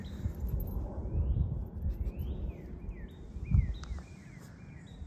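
Birds sing in spring after a snowfall in central Massachusetts, faint repeated chirps and rising whistles scattered over a steady low rumble of a passing jet.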